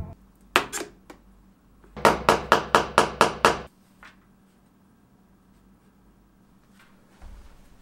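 Hammer strikes on nails for hanging a YouTube play button: two quick knocks, then a rapid run of about seven sharp, loud blows close by, followed by near silence and a faint shuffle at the end.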